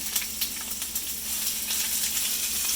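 Steady, loud sizzling of peppers and onion frying in hot oil for chicken fajitas, a continuous crackling hiss with small pops throughout, no voices.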